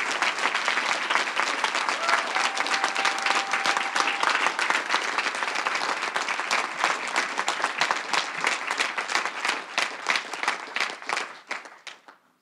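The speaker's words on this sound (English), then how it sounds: "they deserve a big round of applause" Campaign supporters at a concession speech give a big round of sustained applause, dense clapping from a crowd that fades out at the end.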